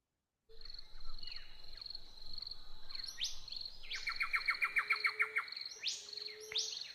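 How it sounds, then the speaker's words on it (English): A bird song recording played for a relaxation breathing session: several birds chirp and trill with clear, close whistles and rapid repeated notes, and a faint insect hum runs beneath. "I will start the bird song."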